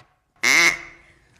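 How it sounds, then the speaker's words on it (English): Single loud, nasal duck quack in a radio drama set in a toy workshop, one sharp burst with a short fading tail, heard alone. "Oh, there's a duck in here."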